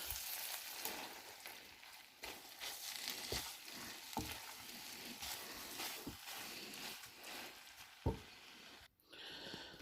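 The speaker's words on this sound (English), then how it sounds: "stir them up. With the sauce and the meat and broccoli and onions" Meat, broccoli and onions are stirred through sauce in a hot pan, giving a steady close sizzle broken by repeated soft scrapes and knocks of the utensil, with no talking.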